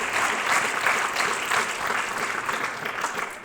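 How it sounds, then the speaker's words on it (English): A round of audience applause at a Distinguished Young Woman scholarship program, a dense wash of clapping from a large crowd that gradually thins out over a few seconds. "Let's give them one more round of applause so they can hear you all the way upstairs."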